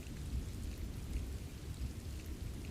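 A heavy rain storm pours down steadily, with a dense, continuous hiss of rain and a low rumbling undertone throughout, with no voices.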